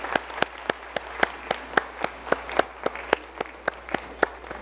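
A church congregation at a Sunday worship service applauding a retirement: crisp, sharp claps in a steady, evenly spaced rhythm, moderately loud over a quiet room.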